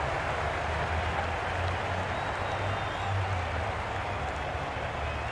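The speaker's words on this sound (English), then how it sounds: "the crowd have joined the party. It's pretty noisy in the ground." A cricket crowd fills the stadium at a Sri Lanka versus Pakistan T20 international with a dense, steady roar of cheering and clapping, loud and continuous throughout.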